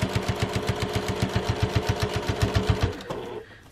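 A sewing machine stitches along the side seam of an insulated fabric tea cozy, a fast steady run of rhythmic needle pulses close up that stops abruptly near the end, leaving quiet handling.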